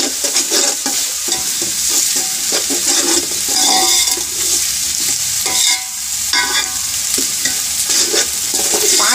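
Garlic, ginger, green chilies and spices for yakhni pulao fry loudly in a pan, a continuous dense sizzle with repeated spatula scrapes and stirring clatter running throughout, close and without talk.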